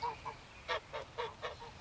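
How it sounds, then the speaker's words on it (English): Geese honking in a backyard, several loud nasal calls in an irregular series, close by and alone with no talk. "I went through into the backyard where she kept the geese."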